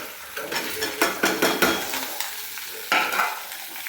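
Bottle gourd sautéing with onion and tamarind in a pan sizzles loudly under repeated scraping stir strokes of a spatula, close and with no talk.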